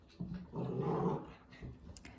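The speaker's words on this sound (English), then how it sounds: "You know puppies, right? They're just so irritating, but we love them all the same." Puppies growling and grumbling in a short, close burst with a few softer whimpering yips at the end, heard with no talking.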